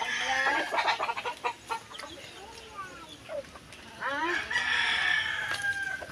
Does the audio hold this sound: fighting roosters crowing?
yes